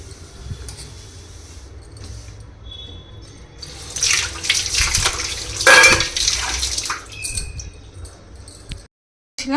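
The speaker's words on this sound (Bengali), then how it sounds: "এখন এবার এখানটা একটুখানি ক্লিন করে নিয়ে এই থালাটুকু ধোবো" A plate washed under running water at a kitchen sink: tap water splashes and gurgles, growing louder in the middle as the dish is rinsed, with a few light clinks, then a brief cutoff.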